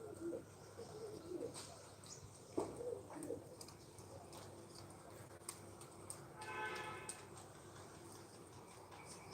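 Soft, repeated cooing of pigeons nearby at a pigeon-flying contest, mixed with faint chirps and light background clicks and knocks.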